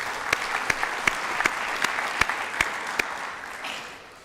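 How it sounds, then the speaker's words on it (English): An audience at a hall of fame ceremony gives a round of applause, with dense steady clapping and a few sharp nearby claps standing out, fading slightly at the end. "One more round of applause."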